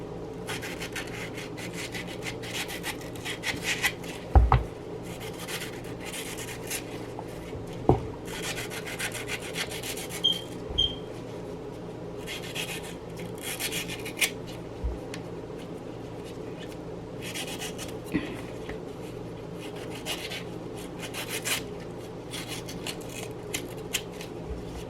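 A knife cutting and scraping the flesh of a mango, with repeated soft rubbing strokes and occasional sharper taps, close up over a steady background hiss, with no talk.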